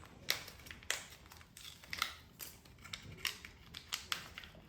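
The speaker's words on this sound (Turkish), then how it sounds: "bunu bir makas yardımıyla keserek öncelikle cihazın içerisindeki bu sensörü çıkarıyoruz" Scissors snip through the packaging around a testo 316-3 refrigerant gas leak detector to free its sensor, about eight crisp, close cuts at a steady rhythm with crinkling between them and no talk.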